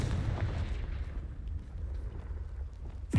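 A Confringo blasting spell explodes in the Hogwarts Legacy video game, a deep rumbling boom that rolls on and fades over a few seconds, ending in a brief sharp swish.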